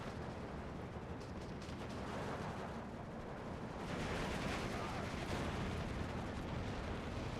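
Distant bombs and artillery rumble in the Steel Division World War II strategy game, a continuous dense roar of muffled blasts that swells louder midway, with no talk over it.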